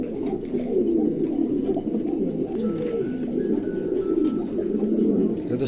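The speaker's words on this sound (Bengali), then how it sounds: "চমৎকার এক জোড়া কবুতর" Pigeons coo steadily and softly throughout, a continuous low, throaty warble with overlapping calls and no talking.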